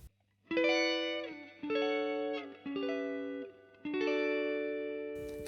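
Electric guitar and amplifier played without a booster pedal: four softer phrases of chords and notes, each struck and left to ring, cleaner and quieter, with a short noisy burst at the very end.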